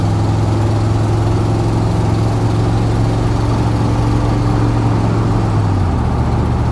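A van's engine runs steadily with an exhaust manifold leak on the driver's side, giving a constant low rumble with a strong harmonic drone that dips slightly near the end, close by with no talking.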